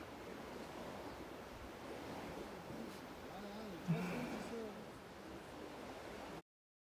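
Steady broadband wash of sea surf rolling in on the Bulgarian coast, with wind rumble across the microphone and a brief louder thump partway through.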